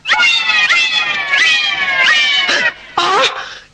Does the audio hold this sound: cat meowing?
yes